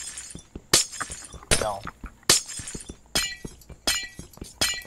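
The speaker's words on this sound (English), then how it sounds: "First to break all the glass wins." Glass blocks shatter in Minecraft in a rapid series of sharp crashes and clinks, about a dozen breaks spaced unevenly over a few seconds, with one brief spoken word among them.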